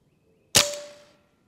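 A single sharp crack from a powerful semi-auto air rifle firing a pellet close to the muzzle, loud and abrupt, with a brief ringing tail and a faint tone fading out.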